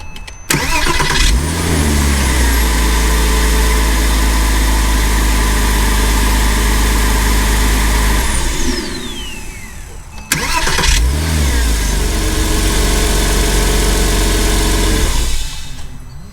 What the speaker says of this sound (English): the new starter works much quieter even with the open compartment